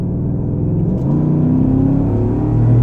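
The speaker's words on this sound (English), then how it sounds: "it is a V8 engine with 420 horsepower, and you can hear that a little" The 420-horsepower V8 engine of a 2016 Cadillac Escalade rumbles loudly and steadily, its low growl rising in pitch as it revs and accelerates up close.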